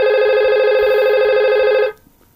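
A simulated IP phone in Cisco Packet Tracer rings with a steady, loud electronic tone for almost two seconds, then stops abruptly, leaving near silence.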